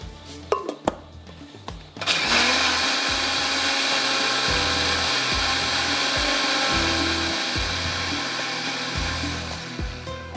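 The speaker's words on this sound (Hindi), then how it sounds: "इसको थोड़ा सा हम चलाएंगे अच्छी तरह से ब्लेंडर को" After a few clicks and clunks, a blender roars to life and runs steadily at a loud, even whir, with a rhythmic low chugging underneath.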